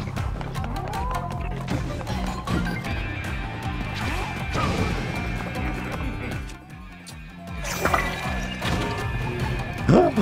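Bombs crashing in Zelda: Tears of the Kingdom, heard as repeated heavy impacts and smashing debris amid busy game effects, with a bright metallic burst toward the end.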